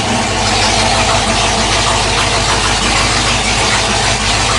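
Engine of a 1979 Ford Dentside pickup truck with a newly fitted carburetor, idling and shifted into gear, giving a steady low rumble with a rough, close, continuous drone throughout.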